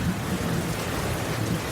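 Steady heavy rain with a low rumble of thunder underneath, a continuous wash of noise that stays loud and even throughout with no voices.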